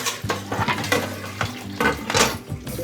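Pots and dishes being handled and stacked in a kitchen after cooking tandoori chicken: repeated close clanks, scrapes and knocks of metal cookware in an uneven rhythm, moderately loud, with no voices.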